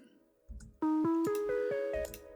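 Synth electric piano run through amp and erosion effects plays a short sequence of clear tonal notes with a gritty, slightly noisy edge, entering after a brief low thump and holding steadily, close and solo.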